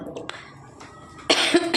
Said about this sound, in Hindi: और ना खांसी सी फिर दोबारा से हो रही है।